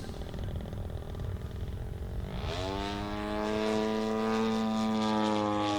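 A Top-Flite giant scale P-47 Razorback radio-controlled model plane drones by, its engine and propeller rising in pitch into a loud, steady buzzing whine with strong harmonics.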